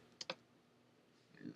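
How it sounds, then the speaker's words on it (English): Computer keyboard keys clicking and typing on their own, a quick pair of sharp clicks followed by a short burst of further keystrokes, close and fairly quiet. "my keyboard was going fluky on me there"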